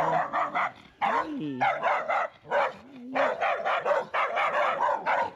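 Several small dogs yap in rapid, overlapping bursts, close by on a neighborhood street in southern Sutiava, Nicaragua, with a few whining, rising yelps among the barks.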